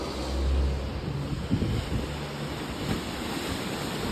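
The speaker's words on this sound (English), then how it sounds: "Here's the Pacific Ocean." Pacific Ocean surf and wind on the coast at Mazatlán, a steady broad roar of breaking waves with wind buffeting the microphone, swelling slightly near the start and continuing without pause.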